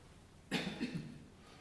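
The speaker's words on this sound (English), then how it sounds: "The sound of a cough from somebody suffering from tree-induced hay fever" A single short cough comes from someone with tree-triggered hay fever, a quick rough burst with a couple of following huffs, faint in a quiet room.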